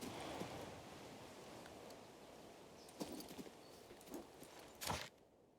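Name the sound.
horse hooves clip-clopping while riding in King's Bounty II video game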